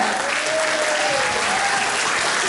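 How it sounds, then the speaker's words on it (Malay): A seminar audience claps for the company Elken Global, a dense, uniform burst of applause that fills the room at a steady level from start to finish. "Okay, satu tepukan untuk company Elkan Global."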